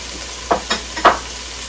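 Onions stirred in a hot pot, three quick scraping, sizzling strokes over a soft steady frying hiss, close and clear.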